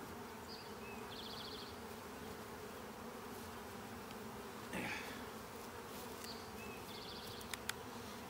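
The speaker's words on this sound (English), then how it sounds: "Let me get the bees off of the thing" A steady, dense buzzing of many bees around a Layens hive fills the clip, close and continuous, with a few brief clicks and faint chirps over the drone.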